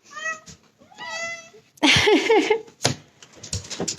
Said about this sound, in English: Look at this little guy. Are you hungry? These are the kitties.